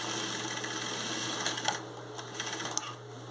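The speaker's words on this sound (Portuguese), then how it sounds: "Dá essa costurinha de um centímetro, retrocesso de um canto a outro." A sewing machine stitches a one-centimetre seam with backstitching in fabric, a steady close whirring hum with faint rhythmic clicking, heard alone.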